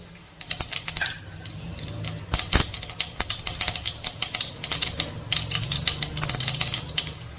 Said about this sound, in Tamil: இப்போ கடுகு சேர்த்துக்கலாம் கடுகு பொரியட்டும்